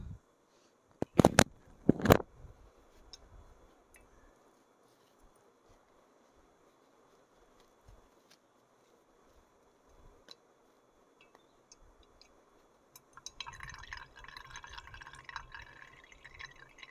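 Sparse, faint drips of whey fall one at a time from a hanging curd cloth into a quiet space, following a few louder handling knocks at the start and a stretch of rustling near the end.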